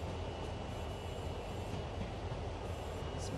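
A CSX freight train rolling slowly at about 15 mph in the Train Sim World game, a steady low rumble of wheels and engine with faint track clatter throughout.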